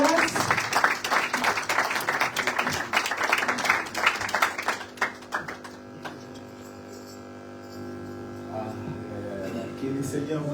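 Applause and clapping from a church congregation at a revival, healing and deliverance service, dense and lively for about five seconds, then fading into a sustained hum with scattered claps and voices.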